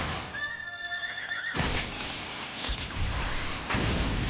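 Ixion, the horse-like summon ridden by Shiva, lets out a loud, close whinny with a trembling high pitch, then a heavy clattering rush of hooves and impact noise follows.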